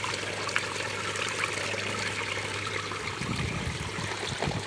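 Water flows steadily from a Tetra pond pump fountain into a garden pond, a continuous trickling splash at moderate distance with a faint low hum, no voices.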